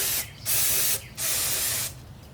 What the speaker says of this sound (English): Go ahead, hose it down.